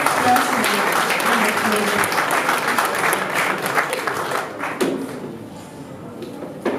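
A church congregation at a youth-week service claps loudly and densely, then the applause thins out and fades over the last couple of seconds, with a few scattered thumps near the end.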